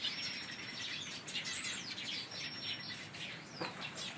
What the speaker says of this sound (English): Your little birds got in through the fence.